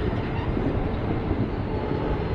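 A train pulling out of Vijayawada station on a Secunderabad to Puri journey, a steady close rumble of rail carriages with faint clickety-clack running throughout, no voices.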